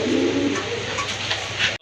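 A pigeon in a seller's loft gives a few low, rounded coos close by, loud and clear with soft rhythmic pulses, ending abruptly.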